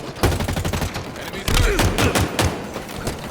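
Rapid gunfire from Halo Infinite multiplayer in an Oddball match, dense bursts of shots repeating across the moment with thumping low impacts, loud and close, with faint voices mixed in.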